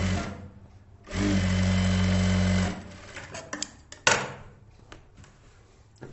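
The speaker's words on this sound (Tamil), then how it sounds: "கீழே உள்பக்கம் இருந்து ஒரு 1/2 இன்ச் மடிச்சு தையல் போட்டுக்கோங்க." A sewing machine runs in one steady loud burst, stitching a folded blouse cross belt with a half-inch inner hem, followed by quieter handling clicks and fabric shuffling.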